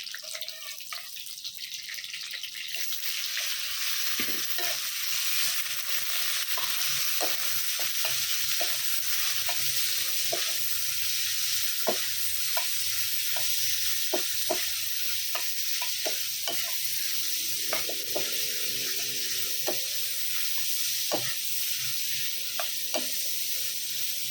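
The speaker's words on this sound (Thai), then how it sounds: "จะผัดให้หอมเลยนะผัดกระเทียมนะ" Garlic being stir-fried in a pan, a steady loud sizzle with repeated scraping clicks of a spatula against the pan, continuing evenly for a long stretch without talk.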